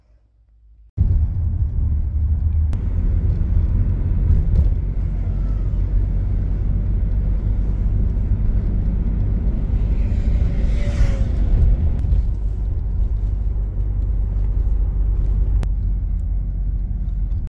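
Inside a taxi ride, a car's steady low engine and road rumble continues without pause after a brief quiet start, with a faint passing sound midway and no speech.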